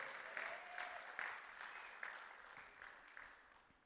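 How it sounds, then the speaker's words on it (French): Church congregation applauding a man named Kevin, a steady wash of clapping that swells briefly a few times, fairly distant and moderate in level, with no talk over it. "On peut acclamer Kevin pour son courage."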